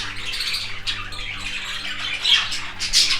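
Several pet birds squawk loudly and close by, harsh bursts repeating over a noisy background, growing sharper toward the end; no one speaks.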